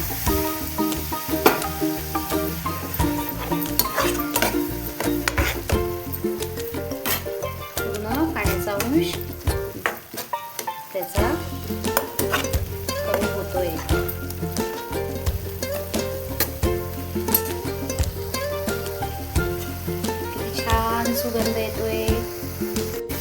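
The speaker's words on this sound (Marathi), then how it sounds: "आपण अजून त्याच्यात थोडं दही ॲड करूया" Okra frying with onion and curd in a pan for crispy curd okra, a continuous sizzle with stirring and utensil clatter, heard under a voice talking and background music.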